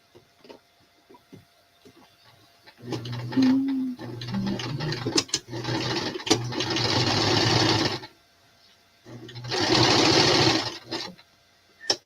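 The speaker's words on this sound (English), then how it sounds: "I almost sewed the pocket onto it now." A sewing machine stitches a pocket onto a garment in long, close runs of rapid mechanical chatter, stopping for a pause and then starting again for a second burst, with small handling clicks before it.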